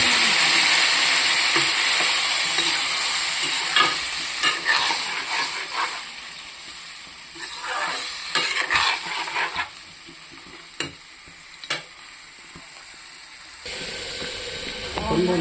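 Soybean and potato curry sizzling steadily in a pan after a splash of water, with a spoon stirring and scraping in bursts throughout; near and fairly loud, no talking.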